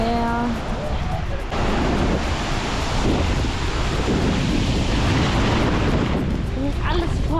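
Black Sea surf breaking on the shore at Constanța, Romania: a steady, loud wash of waves rolling and crashing close by, with wind noise and brief voices at the start and end.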